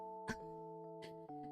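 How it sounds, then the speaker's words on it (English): A faint Twitch follow-notification alert chimes with sustained electronic tones and a couple of soft clicks, heard alone in a quiet room. "That was the sound of a Twitch follow."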